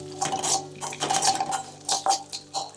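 A spoon stirs cumin and mustard seeds frying in oil in a pan, with several close metallic clinks and scrapes in an uneven rhythm over a light sizzle, and no talking.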